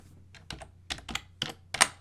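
Code is typed on a computer keyboard in about half a dozen close, crisp clicks and taps spread over two seconds, with no speech.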